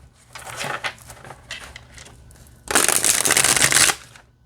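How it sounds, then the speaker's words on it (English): A new tarot deck is shuffled by hand, with a few short riffling bursts followed by one longer, louder, crisp shuffle of close-up card flutter. "let's see how it shuffles"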